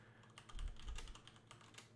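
Fingers type on a computer keyboard in a steady flurry of light clicks, reaching for the N, Y and H keys, heard close and quiet without talking.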